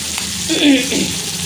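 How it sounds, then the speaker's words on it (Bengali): A small amount of oil heating and sizzling in a hot wok, a steady soft hiss lasting throughout, close and fairly quiet with no talking. "এইবার মাঝখানে যে কড়াইটা গরম এর মধ্যে এইটুকু তেল দিয়ে দিলাম"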